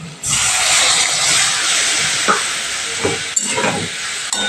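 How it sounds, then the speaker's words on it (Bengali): Water hits a pan of fried potatoes for a white potato curry, starting with a sudden loud hiss that settles into steady steaming and sizzling, with a few light clinks of a utensil near the end. "দেখো আলুটা ভাজা ভাজা হয়ে গেছে এবার আমি আলুর মধ্যে কিছুটা জল অ্যাড করে দেব"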